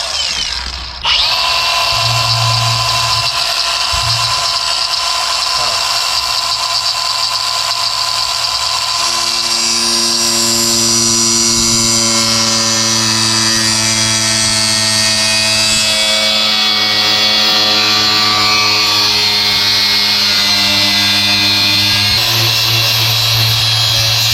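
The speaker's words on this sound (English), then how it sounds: "My cordless angle grinder's here." A cordless angle grinder cuts through the dashboard of a K20 truck. Its loud, sustained high-pitched whine shifts pitch as the disc bites and bogs in the material, running continuously for over twenty seconds at close range.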